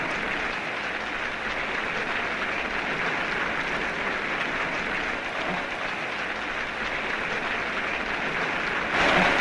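A crowd at a reception for a cricket team claps in sustained, even applause that holds steady throughout, rising slightly just before the end.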